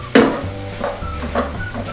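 Mustard powder being stirred into food in an Instant Pot, a few close spoon scrapes and clinks against the pot over a low background hum.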